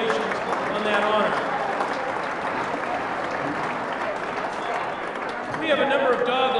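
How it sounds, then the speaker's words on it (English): An audience at a 2009 Okotoks Dawgs awards banquet for minor baseball applauds steadily in a dense, sustained wash of clapping that swells slightly near the end, with voices mixed in. "Let's give them a round of applause and congratulations on that honor."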